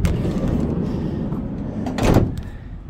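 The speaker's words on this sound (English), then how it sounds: "There's the sliding doors." Sliding side door on a 2022 Ram Promaster 2500 high-roof, long-wheelbase commercial van rolls along its track outdoors, a steady rumble that swells near the end with a brief louder clatter, no voices.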